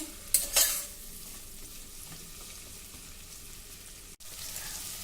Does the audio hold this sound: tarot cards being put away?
no